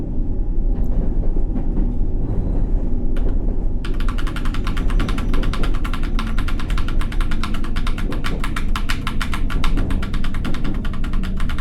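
A subway train from World of Subways 3 rumbles past close by, its steady low mechanical drone joined after a few seconds by a rapid, continuous rattling clatter of wheels over track joints, loud throughout.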